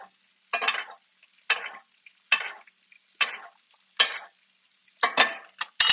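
Sizzling steaks basted by spoon with melted butter and whipped feta: a series of about seven sharp bursts of sizzle spaced roughly evenly, each flaring then fading, with near silence between them and no talk.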